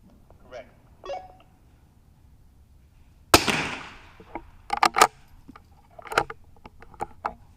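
A sharp .22LR rifle shot cracks at a benchrest match with a short ringing tail, amid faint clicks, handling noises and quiet talk.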